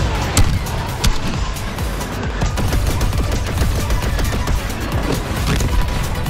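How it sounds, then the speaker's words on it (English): Dense, continuous blaster fire and explosions rattle through a Star Wars Battlefront II starfighter battle as laser shots hammer the Millennium Falcon, loud and unbroken the whole time. "This is the Millennium Falcon they're shooting."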